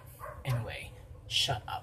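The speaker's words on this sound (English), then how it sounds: "if you guys can hear those dogs barking in the background" Several dogs bark and yip intermittently in the background of an indoor room, mixed under a man's nearby speech, with short louder bursts around the middle and end.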